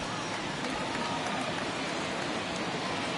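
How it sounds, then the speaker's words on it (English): Heavy rain pours steadily onto a soaked baseball field during a Triple-A game, making a dense, constant hiss that fills the whole stretch without a break. "I don't know how much more rain this field can take."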